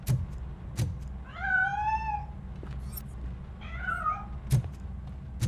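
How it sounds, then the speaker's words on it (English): A cat in the RoboCop: Rogue City video game gives two distinct, drawn-out meows, the second shorter. Sharp clicks and a low background rumble surround them, and the sound is fairly quiet overall. "I think it's coming from the piano. That cat must be hiding inside."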